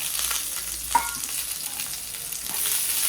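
Fried okra and potatoes are stirred in a hot pan, giving a loud continuous sizzle with scraping spoon strokes and no talking.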